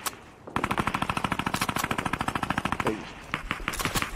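Rapid automatic gunfire in the Fortnite video game fires in a long rhythmic burst of sharp, loud shots, ends briefly, then resumes with a few more. A voice speaks briefly at the start.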